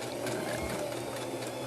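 A sewing machine stitching fabric for a homemade face mask runs in one steady, close, continuous whir of rapid needle strokes, with no talking.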